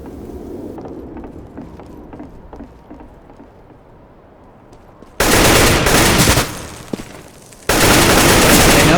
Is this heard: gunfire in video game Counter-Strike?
yes